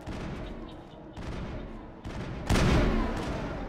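Gunfire in the video game Mass Effect comes in several bursts, each a sharp cluster of shots, building to a louder, heavier blast near the end, with a faint voice under the shooting.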